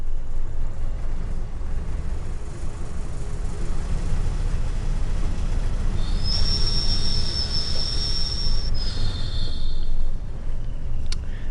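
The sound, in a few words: BR Class 20 train moving, from video game Train Sim World 5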